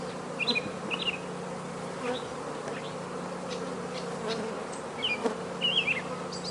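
Honeybees in a five-frame nuc hive buzz continuously in a low steady drone, with a few individual insects whining closer past at moments; no talking.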